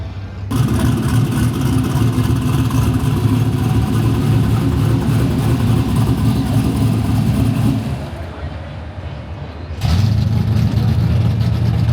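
An old Camaro drag car engine roars loudly in the lanes at a drag strip, holding a sustained rev, dropping off briefly, then surging back up near the end.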